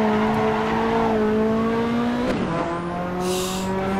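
A Ferrari F40 driven in the racing game Assetto Corsa, its engine droning steadily at high revs, then dropping sharply on a gear change before pulling again, with a brief tire squeal; close, loud and continuous, no talk.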